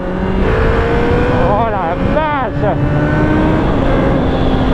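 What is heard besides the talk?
1990 Suzuki GSX-R 750 motorcycle engine accelerating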